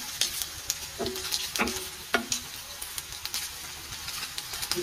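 Ginger and garlic sizzle in a pan with beef, a steady frying hiss broken by clanks and scrapes of stirring, close and moderately loud, with no talk.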